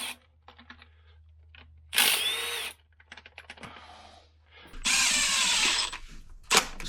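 Milwaukee M12 hex driver on its lightest torque setting, giving two loud, close bursts of whirring motor drive separated by quieter clicks and handling noise, with a brief knock at the end.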